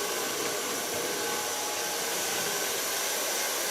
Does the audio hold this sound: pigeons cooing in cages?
no